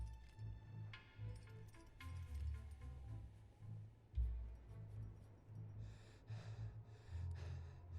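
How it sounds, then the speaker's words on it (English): A character in the survival game Insurmountable gasps for air in repeated short, heavy breaths over a quiet ambient backdrop with occasional metallic clinks. "I know, you're starting to gasp."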